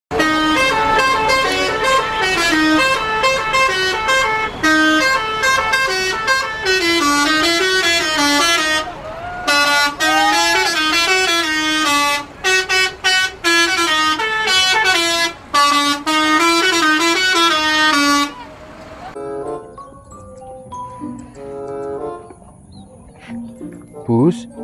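Loud musical horns on a Sinar Jaya bus honk in rapid, melodic patterns for about twenty seconds, then stop, leaving quieter horn tones and background noise.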